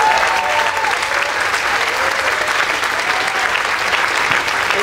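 An audience at a community celebration claps steadily for the next speaker, a dense sustained round of applause heard from within the crowd, with a few faint voices mixed in.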